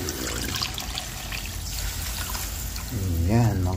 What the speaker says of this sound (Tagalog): Yan, lagyan na po natin siya ng tubig.